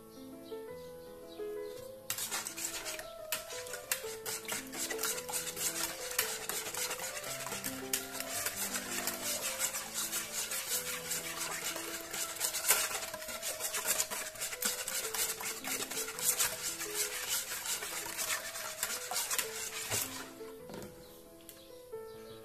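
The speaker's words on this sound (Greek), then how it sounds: "Χτυπάμε τα αυγά." Eggs whisked in a bowl for sweet aniseed rusks: rapid, steady scraping strokes run continuously for most of the stretch, close and fairly loud, with soft music faintly underneath.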